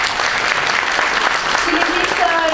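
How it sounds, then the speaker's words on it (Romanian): Audience applause at a university graduation ceremony for the first class of psychology graduates, sustained clapping filling the hall while a voice speaks over it. "pe care îi felicităm și îi aplaudăm"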